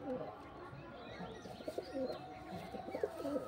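A red pet pigeon coos softly in low, throaty rolling bursts, faint and close, against a light background hum.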